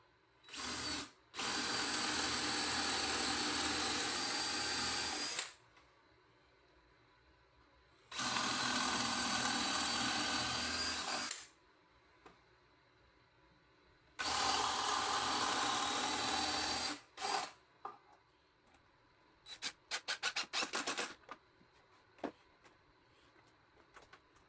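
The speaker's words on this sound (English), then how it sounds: "Then pre-drilled and got that screwed in." A power drill drives 2-inch screws into a 2x4 wooden bench. Three long, loud whirring runs are separated by pauses, followed by a cluster of short trigger bursts near the end.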